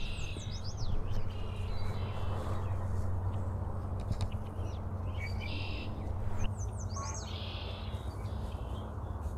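Red-winged blackbirds call outdoors, bursts of sharp chirps and trills standing out near the start and again around six seconds over a steady low hum of background noise.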